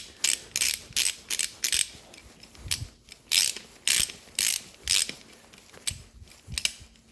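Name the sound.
ratchet tightening bolts on an Austin Healey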